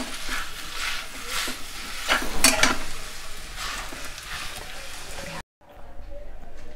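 A spoon stirs and scrapes softened, seedless date paste in a pan with a soft, sticky, faintly sizzling sound. The stirring is steady and close, with a short drop to silence near the end.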